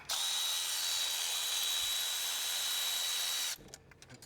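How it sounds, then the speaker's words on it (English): An electric power tool whirs steadily and close for about three and a half seconds, then stops, while loosening the ignition coil bolts on the turbo engine of a 2025 Toyota Tundra. "I'm just gonna break these bolts loose on the ignition coils themselves. Use that electric tool now if we want."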